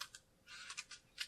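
A deck of Magic: The Gathering cards being shuffled, a few quick, quiet riffling bursts in irregular succession, close and soft.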